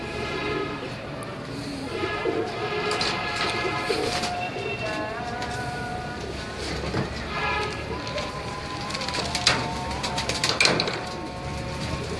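Teddy pigeons, some a Teddy and Ferozpuri cross, coo at home amid a busy bed of chirps and other birdsong, steady and moderately close throughout.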